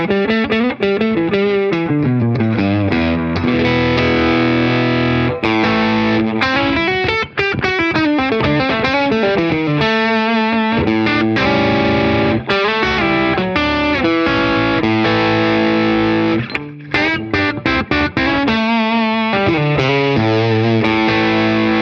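An electric guitar through a clean amp simulator with an impulse response plays a busy run of chords and single notes, bright and sustained, with no voices.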